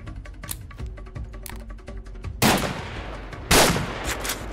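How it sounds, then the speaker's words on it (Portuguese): Sharp gunshots ring out in the video game Rio Raised In Oblivion, set in Vidigal favela, with sniper rifle fire: a string of lighter cracks early, then two loud, heavy blasts with long decaying tails, close and prominent, no talk. "Nossa, ele me deu um tiro de sniper."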